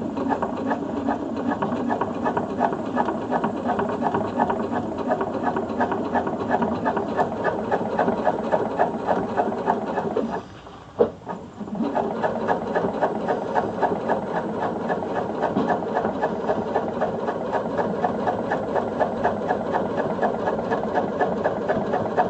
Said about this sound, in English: I'm now going to do my second row of top stitching.